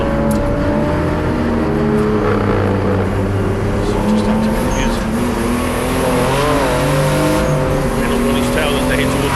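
A pack of five BMW 328i Turbo race cars battles around the Kyalami circuit, engines droning and revving loudly in close succession while a commentator talks over the racing noise.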